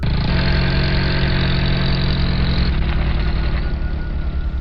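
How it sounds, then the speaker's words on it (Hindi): A jeep engine idles steadily on arriving in a village, a loud, continuous mid-pitched rumble with a slight shift in tone partway through. "और फिर गुल्ली, बुल्ली, सोन तीनों जीप से उतरकर गांव के अंदर जाने लगते हैं।"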